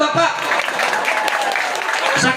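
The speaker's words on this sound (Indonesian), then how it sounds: "Pinter bapak-bapak, tepuk tangan bapak-bapak." A crowd of men in the audience at a Sundanese religious sermon in Garut claps steadily and loudly, dense applause filling the whole stretch with no speech on top.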